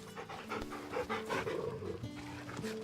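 A dog in the Final Fantasy XVI video game pants in quick, close, rhythmic breaths while being petted, alone with no talk.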